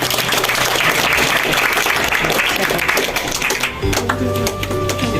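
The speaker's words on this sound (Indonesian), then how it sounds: "Tepuk tangan untuk kita semua." An audience at a history discussion event in Gresik applauds loudly with dense, sustained clapping. Toward the end a voice and some tonal music or sound come in over the dwindling claps.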